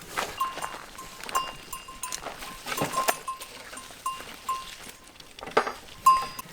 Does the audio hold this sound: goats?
yes